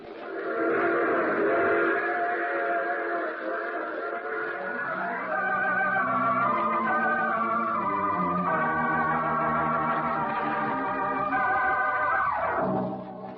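A train rumbles steadily along with a rhythmic clatter, and a long whistle sounds repeatedly over it, loud and continuous throughout.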